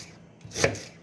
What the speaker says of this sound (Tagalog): Maghihiwa tayo ng preprituhin. Maghihiwa tayo ng panggisa.